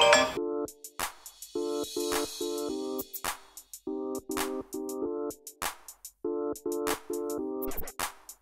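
A phone ringtone for an incoming call, a loud close electronic melody repeating in short patterned bursts with sharp clicks between phrases, playing alone.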